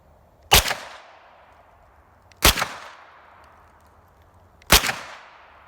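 Three sharp, loud pistol shots from a Glock ring out at an outdoor shooting range, each about two seconds apart and each trailing off in a short echo.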